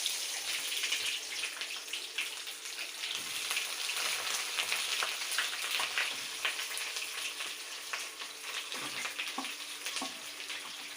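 Onions fry in a pan with a quiet, continuous sizzle and scattered crackles and pops throughout. No voices are heard.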